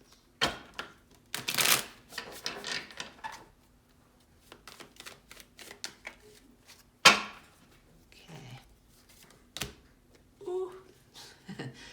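Tarot cards are shuffled close by, with quick riffling bursts and crisp flicks and taps between pauses, and a voice speaks briefly in between.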